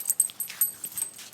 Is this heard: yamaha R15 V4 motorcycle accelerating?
no